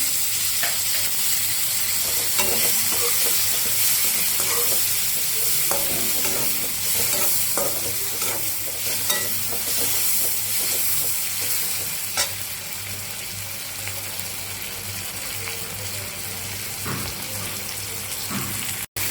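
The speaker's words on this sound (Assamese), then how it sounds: "মই বিলাহীখিনি অলপ ভাজি ল'ম।" Loud, continuous sizzling of tomatoes frying in a pan, with occasional scraping stirs and clicks throughout.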